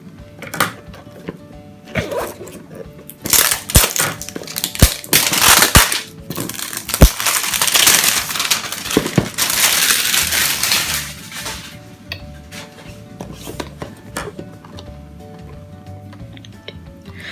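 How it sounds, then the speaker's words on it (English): Plastic wrap crinkles and tears as it is peeled off a boxed MGC 7x7 magnetic cube, coming in close bursts of crackling with quieter pauses between, no talking over it. "plastic wrap"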